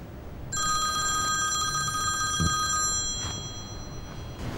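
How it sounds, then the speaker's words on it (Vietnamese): A telephone rings with a bright, continuous electronic trill that sounds for a couple of seconds and then stops, close and clear over faint room noise, with no one speaking. "Anh nghe điện thoại đi."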